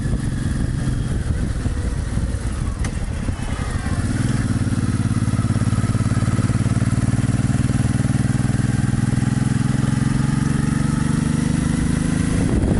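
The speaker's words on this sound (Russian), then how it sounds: "Друг мотоциклист тоже едет 30 км в час." A sport bike motorcycle cruises slowly at about 30 km/h on a road leaving Erfurt, its engine a steady low drone close by, with wind and road noise throughout.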